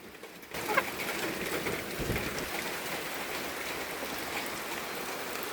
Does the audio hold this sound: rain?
yes